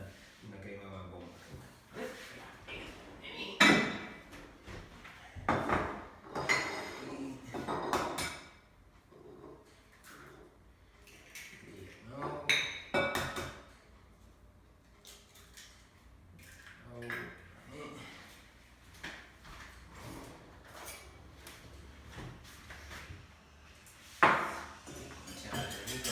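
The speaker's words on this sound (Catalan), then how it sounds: "La primera cosa que farem serà batre els ous i barrejar el sucre" Eggs being beaten with sugar in a bowl for a brownie with chocolate mousse, irregular clinks and taps of a utensil against the bowl, fairly faint, mixed with a person talking.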